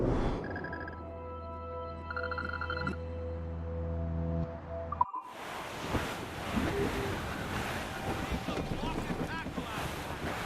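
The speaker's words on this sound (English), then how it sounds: "It's quite a rough squall, Captain." Rough squall at sea in a video game, steady wind roar and breaking waves against a sailing ship, loud and continuous after a brief quieter stretch of tonal music or engine hum at the start.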